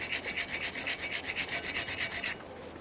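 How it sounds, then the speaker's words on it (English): A Ford Fusion rear brake caliper bracket is scrubbed with fine sandpaper or a wire brush, a close, steady series of about a dozen rhythmic rasping strokes that stop abruptly near the end. "To clean this, you can use some fine sandpaper or a wire brush"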